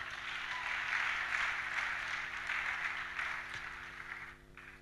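Seminar audience applauding and cheering in praise of the Lord, a dense, sustained wash of clapping from a large crowd that swells, holds steady and then tapers off near the end.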